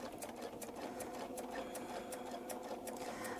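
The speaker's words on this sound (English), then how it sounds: "I'll sew these and I'll come back and show you what we do with the next one." A sewing machine runs steadily in close, continuous stitching on a miniature feathered Baptist fan quilt, a fast even whir with faint rhythmic ticks throughout.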